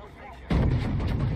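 A heavy naval gun salvo from the battleship Scharnhorst in World of Warships booms in abruptly, followed by a sustained loud rumble that fills the rest of the moment.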